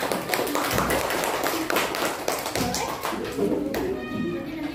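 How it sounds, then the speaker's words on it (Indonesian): Classroom applause for a student group after its science presentation: a loud, dense burst of many hands clapping close by, sustained for several seconds before tapering off. "Yuk kita tepuk tangan buat kelompok 3."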